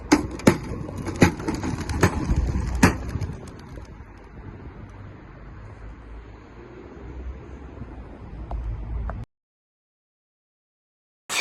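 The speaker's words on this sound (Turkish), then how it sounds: "İkinci sandığı da açıyoruz" A few sharp wooden knocks and creaks as a wooden crate of pigeons is opened, then a rustling flurry of activity with soft pigeon cooing, ending abruptly in silence.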